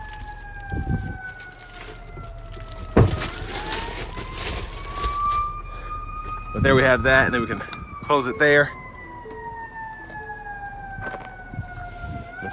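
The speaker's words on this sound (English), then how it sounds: "there are sirens and people running around behind me" Wailing emergency vehicle sirens sweep up and down in the background on a city street, continuous through the clip, with someone talking over them and bursts of nearby clatter and bumps.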